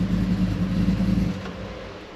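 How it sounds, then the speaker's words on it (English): A Ford Lightning pickup with a swapped Shelby GT500 engine rumbles at idle and then shuts off partway through, its low drone cutting out and leaving a faint hiss behind. "Go ahead and turn the truck off."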